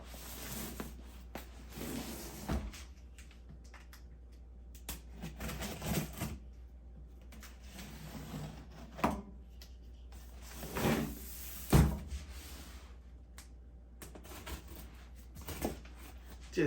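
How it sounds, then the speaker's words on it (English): Unboxing a HYTE Revolt 3 PC case: quiet, scattered rustles, scrapes and thumps of cardboard and packing being handled nearby, with soft knocks spread over the stretch and no talk. "Let's unbox this baby so we can get ready to start us a build."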